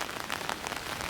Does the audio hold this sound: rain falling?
yes